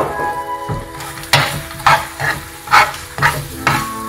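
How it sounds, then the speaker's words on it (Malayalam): Vermicelli and nuts are stirred as they fry in a pan for kunafa, with a steady sizzle and loud, rhythmic scraping strokes of the spoon close by. "അതിലേക്ക് നട്ട്സ് ഇട്ട് കൊടുക്കുക. എന്നിട്ട് നന്നായിട്ടൊന്ന് ഇളക്കി കൊടുക്കുക."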